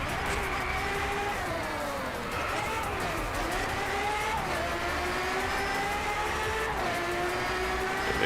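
A race car engine in the Driveclub racing game revs hard and steady, its pitch rising and dipping through gear changes and corners, a continuous loud snarl with no talking over it.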